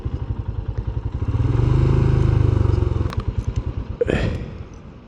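Motorcycle ridden on a Scottish touring route, close and loud with a pulsing engine chug that swells as it revs past, followed by clattering and scraping sounds as it fades.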